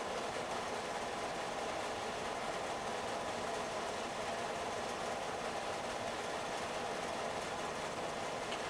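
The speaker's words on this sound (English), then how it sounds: "that was a crop duster flying over the fields behind our place" A crop duster plane flying low over farm fields, heard as a steady droning engine hum that stays level and continuous for the whole stretch, with no talking.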